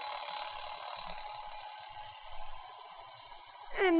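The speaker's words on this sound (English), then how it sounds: "His tinny alarm sounded off with a clatter." A tinny alarm clock rings in a steady, bright metallic buzz that holds for several seconds, fairly loud and alone, ending with a brief clatter as it is shut off.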